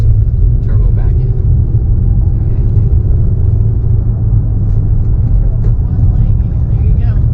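A truck engine fitted with a 5-inch turbo-back exhaust idles in a deep, steady rumble throughout, loud and close, with voices talking faintly over it.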